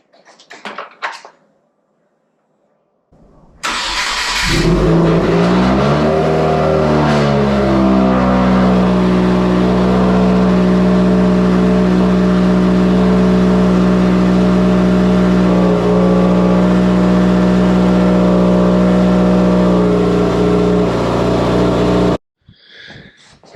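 A 2016 Subaru WRX with a high-idle fault starts up and settles into a loud, steady, elevated idle. The engine drones evenly for most of the span before it cuts off abruptly.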